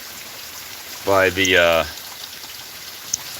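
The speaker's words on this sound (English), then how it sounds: "You can probably hear we had a deluge go down of rain" Heavy downpour of rain gives a steady broadband hiss that runs the whole time, with a voice briefly speaking over it near the middle.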